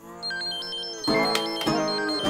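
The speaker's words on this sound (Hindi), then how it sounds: "भाई का फोन बज रहा है, जाके उठाना" A mobile phone ringtone rings loudly and alone, a repeating electronic melody with bright stepped tones that restarts twice in quick succession.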